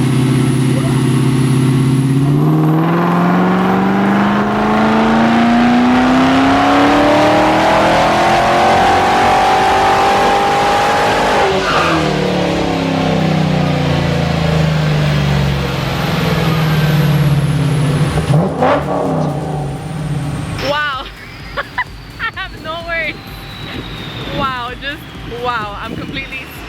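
A 2019 Camaro ZL1 1LE revs hard on a dyno, its loud engine note climbing in long sweeping pulls, dropping and rising again before cutting to quieter idle and shop noise near the end.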